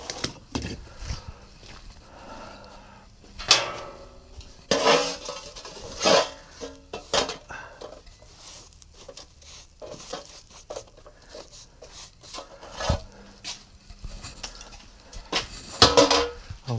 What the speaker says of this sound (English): I'll just check that with the tongs to see that it is solid enough to get out yet.